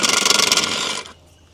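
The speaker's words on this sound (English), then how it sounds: "single hex socket should still get it." Single hex socket wrench working on a partly rusted tractor wheel nut, a fast close ratcheting rattle for about a second, then it stops abruptly and the sound drops away.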